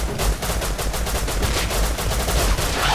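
Rapid automatic gunfire from the video game Rust during a PvP fight, a steady close burst of repeated shots running continuously for the whole stretch.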